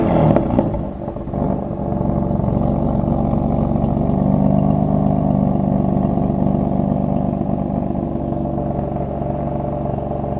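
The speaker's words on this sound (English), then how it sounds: "the sound you can already hear that it's much more deep. It's not metallic" A warm BMW M4 F82 engine with a newly installed cheap aftermarket exhaust revs briefly, then settles into a loud, deep, steady rumble close by, with no voices.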